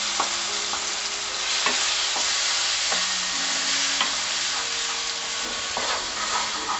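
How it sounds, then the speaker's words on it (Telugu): Onion-tomato paste and cashews fry steadily for a mushroom masala curry, giving a loud, continuous sizzle with occasional soft scrapes and clicks of a spoon stirring the pan. "దీన్ని మంచిగా ఫ్రై చేసుకోవాలండి."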